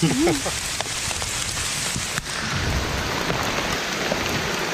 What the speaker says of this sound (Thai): ฝนตกหนักได้พี่น้องวันนี้